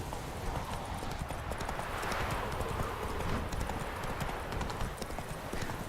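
The horse Roach trots on in The Witcher 3, a fast, steady clip-clop of hooves running the whole time under a dense wash of game ambience.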